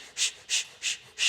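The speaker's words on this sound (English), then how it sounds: "Long, slow, deep breaths in and out your nose." Slow, deep breaths drawn in and out through the nose during a calming yoga practice, four soft airy breaths evenly spaced, close and quiet with no talking.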